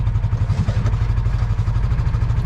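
Engine of a Coleman Outfitter UT400 400cc UTV running just after starting, a loud, close, steady idle with rapid even chugging pulses and some clatter, no voices.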